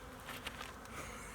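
Honeybees buzzing at an opened beehive during a spring hive check, a faint, steady hum of many bees.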